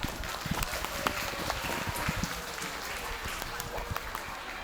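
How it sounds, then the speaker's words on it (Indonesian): Applause at a school student-council candidate debate, a moderate wash of clapping from a crowd of students, fairly faint and distant, with a few sharper individual claps standing out. "Tepuk tangan untuk Mas Hansa"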